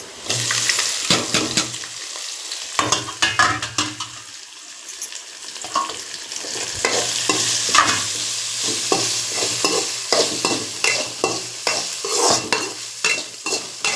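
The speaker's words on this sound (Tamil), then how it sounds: "நல்லா கிறிஸ்பியாக வர வரைக்கும் நல்லா கிண்டி விட்டுக்கோங்க" Okra fries and crisps in a pan of oil while a spatula stirs it, loud close sizzling broken by repeated scraping strokes, with a brief gap of quieter frying near the start.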